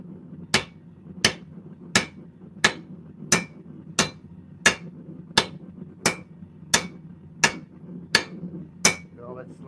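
A hammer strikes hot metal in a steady, evenly spaced series of about fourteen sharp ringing blows over a low background hum, close and distinct with no talking.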